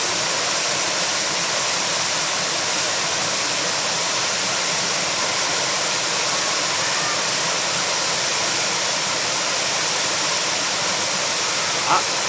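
Roaring whitewater rapids at Otaki falls on the Yoshino River during a rafting trip, a dense, constant rushing wash that stays loud and unbroken throughout with no distinct voices.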